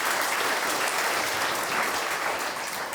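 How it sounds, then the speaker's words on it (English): An audience at a county State of the County address claps steadily for a finance department presenter. The applause is moderate and even, with no voices standing out. "So a big round of applause for her,"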